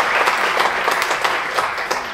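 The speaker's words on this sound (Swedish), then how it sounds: "Då kan vi väl applådera en gång till." An audience at a vegan festival in Gothenburg applauds, a steady dense wash of many hands clapping throughout, with no voices.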